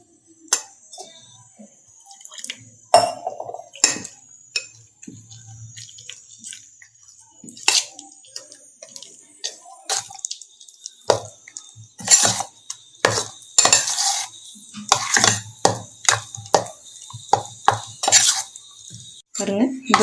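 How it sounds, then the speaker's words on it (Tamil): A utensil scrapes and clinks against a vessel while maida flour batter with salt and water is stirred, in irregular bursts of knocking and swishing with quiet gaps between. "நல்லா கிண்டி விட்டுக்கோங்க."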